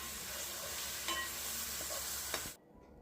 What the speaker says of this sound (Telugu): మనం చేసి పెట్టుకున్న టమాటా దాంట్లో